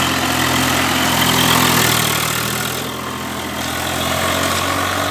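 A Swaraj 744 FE tractor engine runs steadily and loud up close, with a deep low rumble and a continuous mechanical drone, no voices.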